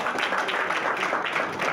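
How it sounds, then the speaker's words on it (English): A short, steady round of applause from a lecture audience at a mechanical engineering event, dense overlapping clapping at moderate level with no voices. "Please a round of applause."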